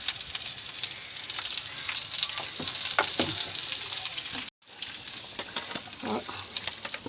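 Curry leaves crackle and sizzle in hot oil along with onions for a beef and Chinese potato (koorka) curry, a close, loud, steady frying hiss with sharp pops and one brief dropout midway.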